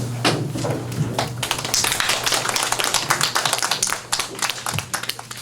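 Applause at the end of a school debate contest, a steady wave of many hands clapping indoors that swells and thins over a few seconds, with brief voices underneath.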